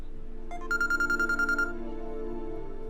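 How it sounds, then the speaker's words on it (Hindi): A mobile phone ringtone sounding a short rapid run of bright repeated electronic tones that then fade, heard alone indoors. "एक सेकंड, आर्य सर का फोन"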